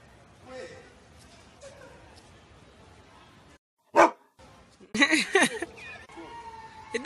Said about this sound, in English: Kaka, go and pet that dog now